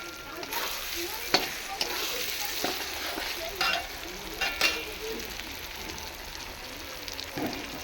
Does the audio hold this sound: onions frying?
yes